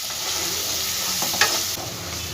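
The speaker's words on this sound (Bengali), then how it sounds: "দেখো পেঁয়াজটা আমার ভালো করে ভাজা হয়ে গেছে" Chopped onion salted and frying in a pan for chow mein, a dense continuous sizzle with a short stirring scrape in the middle, close and fairly loud.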